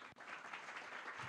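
Audience in a conference hall breaking into applause, a dense, even patter of many hands clapping heard from within the crowd for just over a second.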